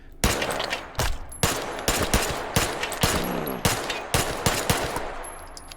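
Rapid pistol shots from an H-Point Tactical handgun fitted with a laser pointer, fired from the hip in the H3VR virtual reality shooting game: about a dozen loud, sharp reports in quick, fairly steady succession with no talking.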